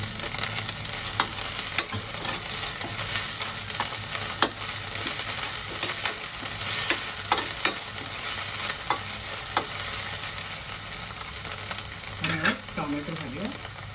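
Onions fry in a pan with a continuous crackling sizzle and frequent sharp taps and scrapes from stirring, heard up close and without any talking.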